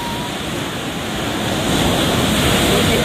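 Large sea waves surge and crash around a small fishing boat, a steady loud roar of surf with wind noise that swells stronger in the second half.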